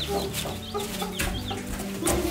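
Mother hens and newly hatched baby chicks cluck and peep together nearby in a dense, busy chorus of overlapping calls.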